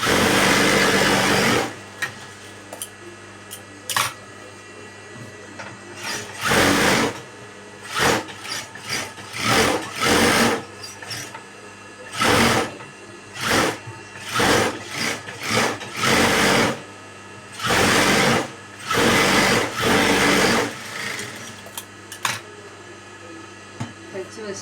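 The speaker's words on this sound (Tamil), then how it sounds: "கொஞ்சம் பெரிய தையலாக வச்சு தைச்சி முடிச்சுட்டு ரிமூவ் பண்ணிக்கலாம்." A sewing machine stitches a blouse, running loudly in repeated bursts of rapid mechanical whirring that start and stop many times, with short quieter pauses between runs.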